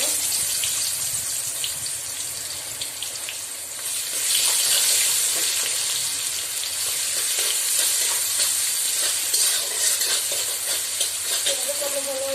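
Onions and bay leaf fry in hot oil for an Odia rohu fish curry, giving a steady, loud sizzle and crackle that runs unbroken throughout with no talking.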